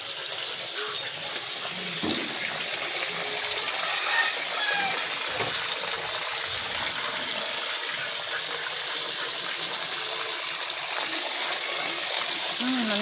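Water splashing and running steadily, a continuous rushing wash heard close with a few brief knocks, while people talk quietly in the background.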